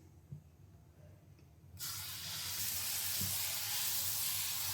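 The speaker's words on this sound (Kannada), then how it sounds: "ಒಂದು ದೋಸೆ ಹಾಕೋದು ತೋರಿಸ್ತೀನಿ." Dosa batter meets a hot pan and sets off a sudden loud, steady hiss and sizzle that holds to the end, after a quiet stretch with faint kitchen knocks.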